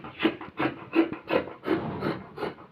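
Scissors snip through velvet fabric on a small table, a steady run of about seven soft rasping cuts in an even rhythm, close and fairly quiet.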